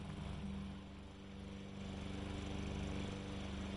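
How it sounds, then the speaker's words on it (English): A lawn mower drones in a video game, a faint, continuous buzzing engine hum that dips slightly then holds steady, with no voices over it. "Oh man, the lawnmower's trying"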